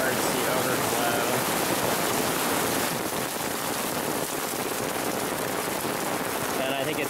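Heavy stormwater rain pours down in a dense, continuous roar onto surfaces near the mulch basins, loud and unbroken for the whole stretch.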